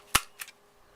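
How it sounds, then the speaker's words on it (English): Crocodile corner chomper punch rounding the top corners of a handmade card with a 1/2 inch radius, two sharp close snaps about a quarter second apart, the first louder, with no talking. "I'm going to take my crocodile corner chomper and I'm going to corner around these top ends using the 1/2 inch"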